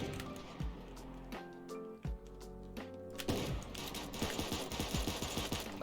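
Gunshots in the Super Animal Royale video game, a few spaced shots that give way to faster, denser firing toward the end, loud and close with game sounds underneath.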